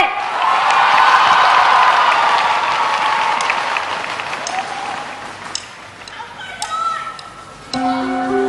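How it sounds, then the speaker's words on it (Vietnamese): A television studio audience applauds loudly and steadily as a couple is welcomed back at a Vietnamese couples show final, the clapping fading toward the end as music and faint voices come in. "Bây giờ thì xin mời quý vị hãy dành một tràng pháo tay thật lớn."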